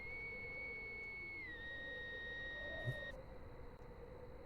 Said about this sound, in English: Is that a guard whistle? Hear the sound of a whistle coming from the western direction, far off